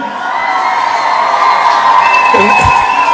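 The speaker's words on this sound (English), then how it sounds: "Let's give Judge Juan Merchan a round of applause." A large political rally crowd cheers and whoops loudly, a dense, sustained roar with shouted voices rising toward the end.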